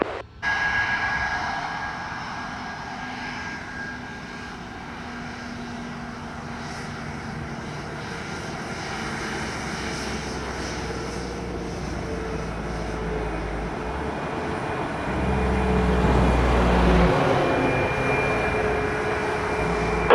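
A Delta airliner takes off from runway 25 at Montego Bay, Jamaica: a sustained jet roar with deep rumble, steady at first and then swelling louder near the end.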